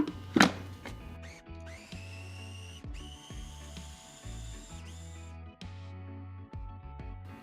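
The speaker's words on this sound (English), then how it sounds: "Now we're just gonna blend." A blender whirs through roasted salsa verde in short bursts, its motor starting and stopping in a choppy rhythm, close and fairly loud, with a sharp clatter at the start.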